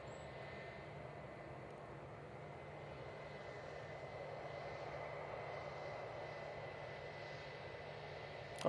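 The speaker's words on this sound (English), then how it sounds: "Oh, they're doing a little floaty landing" Steady, faint rumble of an airliner's engines as a plane comes in to land at Manchester Airport, heard from a distance as an even drone with no talk.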